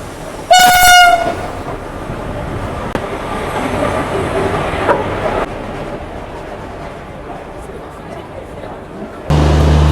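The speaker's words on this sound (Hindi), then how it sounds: "So finally our train is here." The Gwalior Intercity passenger train arrives at a station platform, opening with a loud horn blast and followed by a continuous rumble of rolling carriages that runs under the station bustle, with a loud thump near the end.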